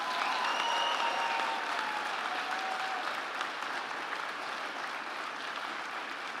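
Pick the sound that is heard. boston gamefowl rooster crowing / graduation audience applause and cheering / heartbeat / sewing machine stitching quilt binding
graduation audience applause and cheering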